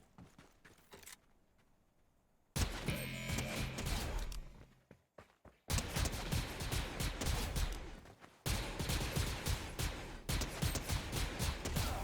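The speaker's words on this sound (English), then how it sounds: "I'm hearing gunfire." Bursts of rapid Fortnite gunfire crackle in dense volleys, loud and close, separated by brief quieter gaps with no voices.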